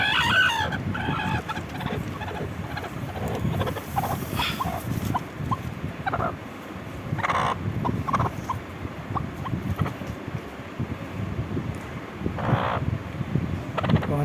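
Hens cluck repeatedly, close and fairly loud, with sharp calls scattered across a continuous backdrop of poultry noise and no speech.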